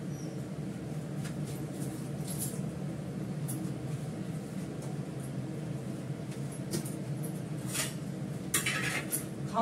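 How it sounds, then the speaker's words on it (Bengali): Rice being washed in a pot, a steady wet swishing and sloshing with occasional clinks of grains and metal, close and continuous without speech. "চাল ধোবো, চাল রেডি করবো"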